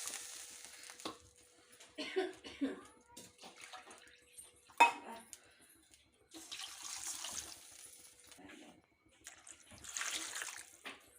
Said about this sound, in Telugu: అదే కప్పుతో మూడు కప్పులు వాటర్ పోసి